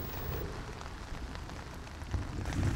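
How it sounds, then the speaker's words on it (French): Rain falls at night on the quiet island of Okikamuro, a soft, steady patter of drops with faint low rumbling beneath, heard close up and with no voices. "Il n'y aura plus que la pluie pour tenir compagnie au silence."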